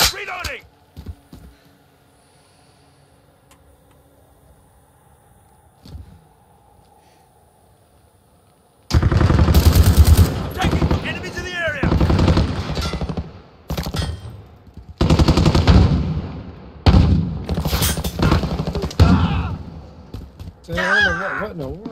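Bursts of automatic gunfire in Modern Warfare 2022, quiet at first, then loud rapid volleys arriving in several waves of shooting, with people talking over the firefight.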